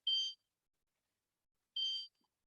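Kitchen timer at a children's cooking class giving two short, bright electronic beeps about a second and a half apart, clear and alone in a quiet room.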